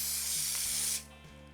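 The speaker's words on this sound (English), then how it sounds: "That was a fairly heavy spray" A heavy, continuous hiss of finish accelerator sprayed onto a Gibson Midtown guitar during finish repair, steady for about a second before cutting off to quiet room tone, with faint low mechanical clicks underneath.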